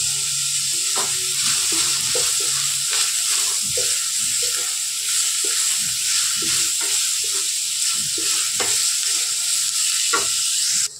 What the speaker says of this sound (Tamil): நல்லா சேர்த்துட்டு வதக்கிடலாம்.